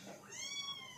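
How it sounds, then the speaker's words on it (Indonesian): A small kitten lets out a single thin, rising meow, heard up close and fairly soft, with no speech over it. "Itu kucing aku nemu."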